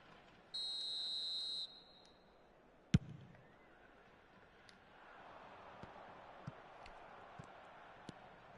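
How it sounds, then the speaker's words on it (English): A referee's whistle blows for offside in an eFootball match, one short, sharp, loud blast standing alone over a quiet background, followed by a faint crowd murmur and scattered small clicks. "And the whistle's gone, presumably for offside."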